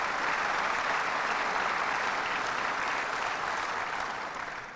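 Dense, even applause from an audience at a celebration of the ROC airport renovations fills the room for several seconds, then begins to taper off toward the end.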